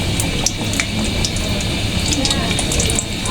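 Dough piece for khasta khaja dropped into hot oil, a steady broadband fizzing sizzle with faint crackles that holds evenly and close throughout.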